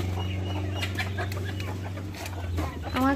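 Farm chickens clucking as they feed on scattered aquatic weed, a few short clucks and pecking sounds over a steady low hum, fairly close.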